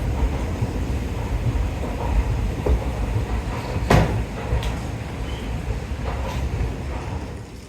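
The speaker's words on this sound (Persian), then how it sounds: "این هم ایستگاه مربوطه." A train passes through a railway station, a steady rumble carrying scattered clacks and a few sharp metallic clicks, moderately loud with no speech.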